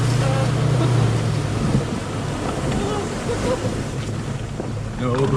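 A 4x4 truck drives through water on a rough backcountry trail in British Columbia, with a steady loud engine rumble under splashing, sloshing water and wind buffeting on the microphone, and people talking faintly in the cab.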